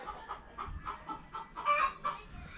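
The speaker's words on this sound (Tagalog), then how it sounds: "Grabe naman ang manok na gara naman gyud." Rooster clucking in a quick series of short, fairly faint calls, building to a louder squawk partway through.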